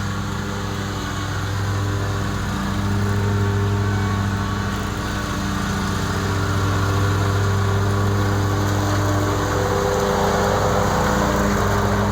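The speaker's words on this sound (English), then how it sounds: "You guys want to get some video of the boss mowing?" Lawn mower cutting a dry, dusty yard on a hot day, a steady droning engine hum that stays close and constant for the whole stretch, with no voices.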